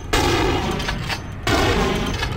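Gunfire in the video game Vampire: The Masquerade - Bloodlines comes as two loud, close bursts of rapid shots separated by a brief lull, with no talk.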